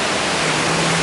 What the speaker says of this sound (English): There's another tank over there and another waterfall.